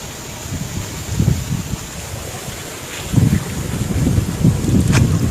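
Wind gusts outdoors while cooking rabbit mutton and pakora over a hot pan of oil, with a windbreak set up; strong buffeting rumble rises and falls in waves, loudest toward the end, with no talk.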